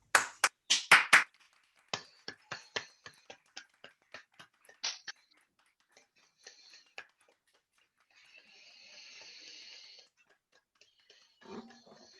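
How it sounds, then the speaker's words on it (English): Online rally audience clapping for care workers at a Pay Fair for Care event: a few sharp, loud claps at first, then scattered, sparser claps tapering off, with faint background noise and a brief thud near the end. "let's give our carers a very big clap"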